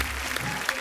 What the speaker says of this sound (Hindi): आप सबकी जोरदार तालियों के बीच में इनवाइट करना चाहूंगा